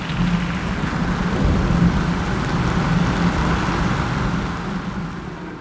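Steady heavy rain pours continuously, a dense broadband hiss with a low rumbling undertone, loud and unbroken from start to finish.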